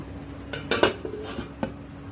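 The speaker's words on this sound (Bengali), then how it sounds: "এবার আমি ভালো করে ঢেকে দিব।" A lid is set onto a pot of steaming veg and non-veg momos. A few metallic clinks and a brief clatter sound up close, then a single lighter tap.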